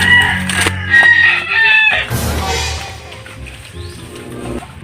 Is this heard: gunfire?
no